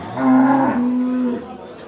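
A Sahiwal cow at the Dhanaula cattle market gives a single loud, drawn-out moo close by, holding for over a second before trailing off.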